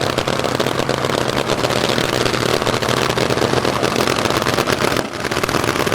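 A nitromethane-fuelled AA/Fuel dragster idles at a Nightfire Nationals drag strip, a loud, close, crackling engine with a rapid staccato popping rhythm that fills the whole stretch without pause.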